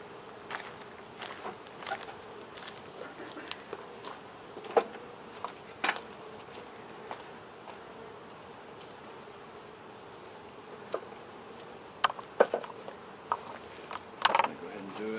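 Honeybees buzz around an open hive in a continuous droning hum, with scattered soft clicks and knocks of frames being handled nearby, fairly close and without clear speech.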